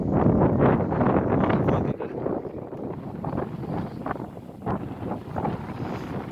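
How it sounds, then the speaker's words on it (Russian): Strong wind in Yakutsk buffets the microphone in loud, rumbling gusts that ease slightly midway, with no talking. "Ветер"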